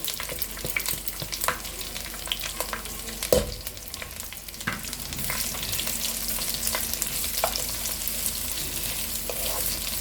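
Chopped onion frying in oil, a steady sizzle with repeated clicking and scraping stirring strokes, one sharp clatter early on, no voices.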